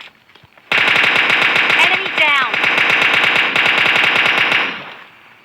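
Rapid automatic gunfire from PUBG Mobile Lite, a loud, sustained burst of evenly spaced shots lasting several seconds before tapering off, with a brief whooshing sweep partway through.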